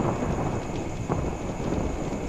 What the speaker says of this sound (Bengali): এত প্রবল ঝড় বৃষ্টি আমি তো আমার জীবনে কখনো দেখিনি এর আগে।